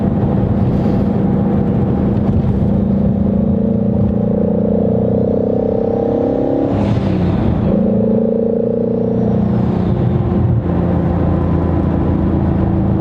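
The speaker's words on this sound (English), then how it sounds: "You can tell the turbos start to come in pretty fast." A twin-turbo 2019 Shelby GT350 800R accelerates hard through the gears, its loud close engine roar climbing in pitch with a rising turbo whistle, breaking at each shift and climbing again.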